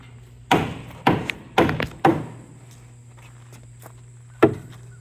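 Wooden board knocked back into place on a homemade trough-style deer feeder, five sharp close thuds: four in quick succession, a pause, then one more.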